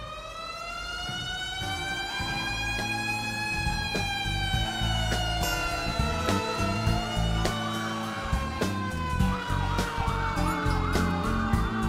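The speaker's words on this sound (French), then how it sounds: "faire rouler leur mécanique et chanter leur sirène" Fire truck sirens wail at an auxiliary firefighters' parade through the streets of Montréal's Plateau Mont-Royal, several rising and falling tones overlapping loudly with steady street noise beneath.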